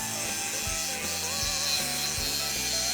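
Laser stripping paint from a truck bed gives a continuous dense buzzing hiss with a faint rhythmic pulsing underneath, steady and close throughout with no talk.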